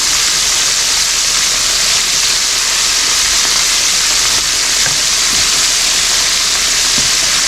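Steady loud sizzling and hissing of fish frying in hot oil, a constant crackling wash with no voices.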